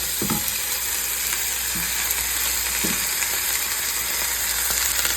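Beer-infused Italian sausages fry in a pan with a steady close sizzle and a few soft stirring knocks, without talk.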